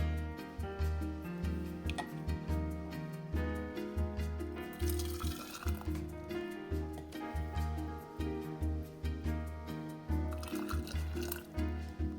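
Hot plum nectar pours and glugs into jars in repeated bursts, with music playing loudly alongside.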